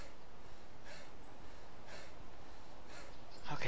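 Heavy breathing from a character in the video game DayZ: a steady rhythm of breathy huffs about once per second over a low background hiss, followed by a brief louder gasp at the end.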